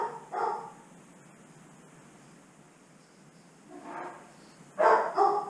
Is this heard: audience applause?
no